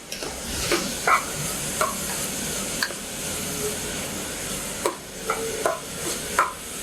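Vegetables for veg pulao sautéing in a pan, a steady close sizzle punctuated by several sharp spoon taps and scrapes against the pan at irregular intervals.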